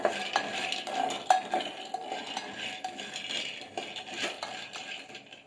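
Peanuts roasting in a pan over a medium flame, stirred steadily with a utensil: close, continuous clinking and scraping with sharp metallic taps, no voice.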